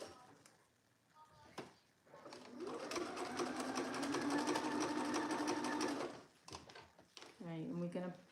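A sewing machine stitches the seam of an Alice top in a steady, continuous whirring run lasting several seconds, close and fairly loud, with a person talking just after it stops.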